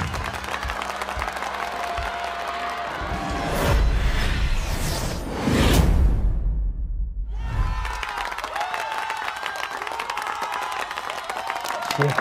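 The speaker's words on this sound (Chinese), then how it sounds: "这热烈的掌声" Warm, sustained applause from a studio audience at a martial-arts tournament match, steady crowd clapping with a swell and a brief sweeping whoosh midway, fading out and then returning.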